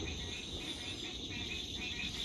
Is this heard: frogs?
yes